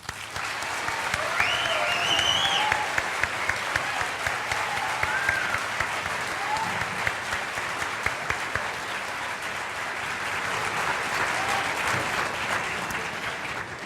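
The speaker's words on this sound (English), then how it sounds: "please join me in offering Paul a warm Craig Cougars welcome with a round of applause" A school audience of Craig Cougars gives Paul Ryan a sustained round of welcoming applause in a hall, steady dense clapping that swells early then holds level for well over ten seconds, with no speech over it.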